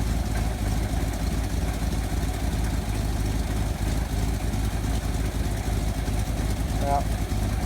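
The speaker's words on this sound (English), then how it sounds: "It starts up fine, then it starts to chug along like this." A Chevy Cheyenne C20 truck engine runs steadily with a low, rough chugging rumble throughout, fairly constant in level with no clear breaks.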